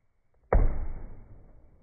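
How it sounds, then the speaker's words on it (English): An arrow shot from a bow strikes a cardboard box once with a sharp, nearby thud that fades quickly in a quiet outdoor garden. "this is where they shoot their bow and arrows into the cardboard box."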